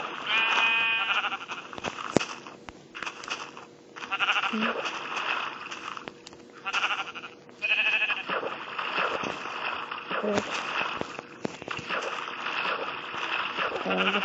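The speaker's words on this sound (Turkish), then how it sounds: "Bir koyun var." Repeated sheep bleats in Minecraft Pocket Edition, some high and wavering, sound one after another with short pauses, close and clear over a quiet game background.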